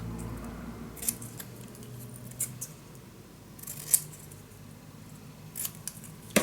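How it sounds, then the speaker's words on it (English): Scissors snip paper while trimming a small picture for a Graphic 45 Love Notes folio mini album, giving a few sharp, close, isolated cuts spaced apart over a quiet background. "I'm gonna cut this a bit nicer."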